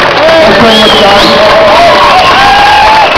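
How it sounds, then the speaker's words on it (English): A convention audience at a Red Dwarf talk in London cheers and claps for three television legends, a loud, steady roar of crowd noise with whoops rising over it throughout. "Just to have another round of applause for three great and legends of the television."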